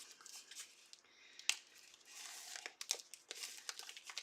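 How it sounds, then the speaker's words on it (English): Plastic packaging being pulled off a scrapbooking kit, close crinkling and crackling with a couple of sharp tearing snaps, alone in a quiet room. "Take off all this plastic."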